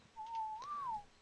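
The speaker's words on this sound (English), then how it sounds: "Give a little whistle." A single whistled note in the video game Ark: Lost Island holds level, then rises and falls gently before trailing off, a clear, fairly quiet tone with no speech.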